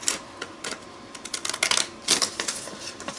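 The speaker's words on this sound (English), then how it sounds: "I want to cut it about here" Scissors cutting through paper cards, a run of crisp, snipping crunches in irregular bursts, close and moderately loud, with no talking.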